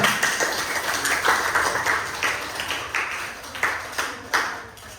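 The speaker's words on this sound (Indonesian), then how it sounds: "Ya, tepuk tangan dulu." Audience at an Indonesian school counseling session on managing emotions claps hands, a brief burst of scattered claps followed by rhythmic group clapping, loud and near.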